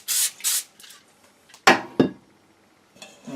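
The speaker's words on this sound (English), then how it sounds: "I'm going to use a little bit of cooking spray on it." Cooking spray misted onto tin foil in short hissing bursts, two quick sprays at first, then a few soft rustles and taps of the foil, close and fairly quiet.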